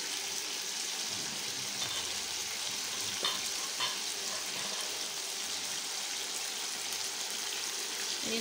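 Food grilling in a frying pan on an induction cooker, giving a steady, even hiss of sizzling with a few faint clinks, close and continuous without talk.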